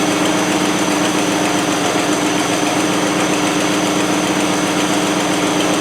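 A NATO V8 engine idles steadily with its choke fully open, a loud, continuous mechanical hum and vibration with no pauses or change in pace, close to the listener and without any talk.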